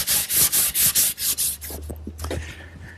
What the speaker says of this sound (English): A little bit of final sanding.